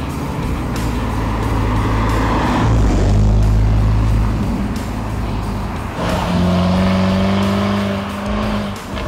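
Jaguar F-Type SVR sports car engine roaring loud and close, surging and revving in sustained waves with a brief dip before building again, no voices.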